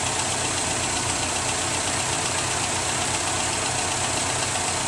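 A 1995 Geo Metro LSI engine idles with an even, continuous hum and faint hiss, no revving and no voices.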